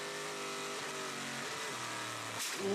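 A Le Mans race car's engine drops through the gears in a series of falling pitch steps, loud and close, with a rising burst near the end.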